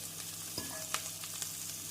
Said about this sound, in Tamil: நம் காய்கறிகளை ஒரு நிமிடம் நன்றாக வதக்கி